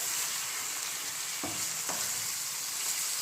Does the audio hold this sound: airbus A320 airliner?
no